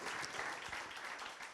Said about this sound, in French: J'aimerais d'abord que vous puissiez applaudir Cécilia Barontini, s'il vous plaît